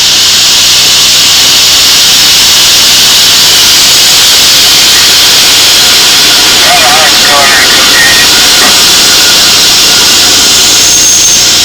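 Locomotive automatic air brake exhausting after a 15-pound reduction from a train line charged to 100 pounds; a loud, steady, close hiss runs unbroken through the whole stretch.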